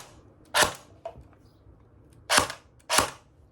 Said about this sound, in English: I'm just gonna fire a couple of blank rounds, you know, just to show you guys like how it shoots